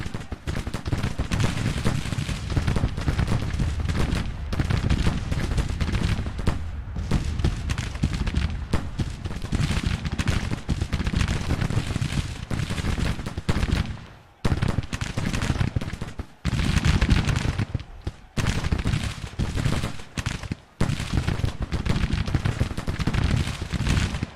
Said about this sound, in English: Get a good volley in.